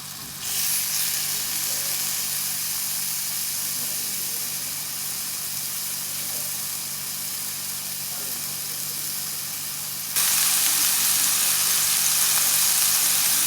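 Beef pieces brown in a hot pan for a quick beef and gravy dish, sending up a steady, loud sizzle that swells even louder near the end, with no talking.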